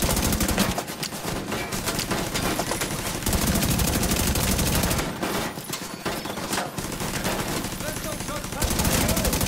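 A gun turret in the shooter game The Division 2 fires in long, dense, rapid automatic bursts, loud and close, broken by short pauses, with a voice talking over it at times.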